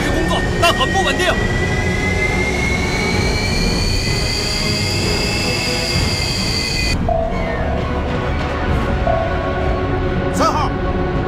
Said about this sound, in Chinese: 发动机已经开始工作